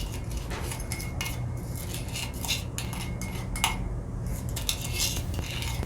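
A coffee and cocoa butter scrub is stirred in a bowl, with steady scraping and clinking of a utensil against the dish throughout, close and continuous.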